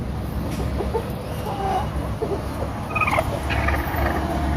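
Rhode Island chickens cluck softly now and then in a farmyard over a steady low rumble of background noise, with faint distant bird calls.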